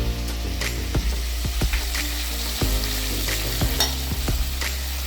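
Finely chopped garlic sizzles steadily in melted butter in a pan for a Mexican-style tomato rice, with a spoon scraping and stirring at intervals through the continuous frying hiss.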